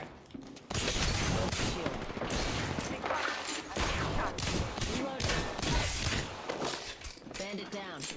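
Rapid bursts of gunfire and impacts in a squad shooter video game firefight, dense and continuous under constant excited talk from a player and in-game voice callouts.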